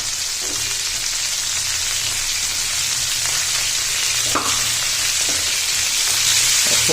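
Green chilies frying in oil for chana dal, a steady, loud, close sizzle with faint occasional clinks of a spoon.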